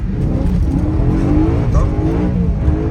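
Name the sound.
BMW M3 E93 accelerating again while drifting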